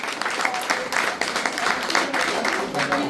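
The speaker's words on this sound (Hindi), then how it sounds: "जोरदार तालियां दिशा के लिए" An audience applauding at a school or community event during Paryushan, a steady burst of many hands clapping close by, moderately loud and continuing throughout.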